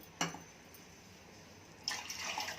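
A glass of water is poured into a pot of milk on a stove while making rava laddu, a quiet splashing pour starting late after a single faint knock.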